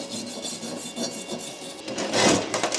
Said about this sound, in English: This little brush.